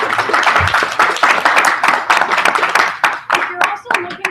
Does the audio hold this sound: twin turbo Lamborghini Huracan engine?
no